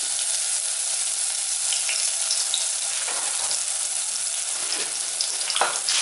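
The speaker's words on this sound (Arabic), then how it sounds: "نقلي البصيله تاعي" Onion frying in oil in a pan: a continuous loud sizzle with crackling bursts, steady from start to finish, without any talk.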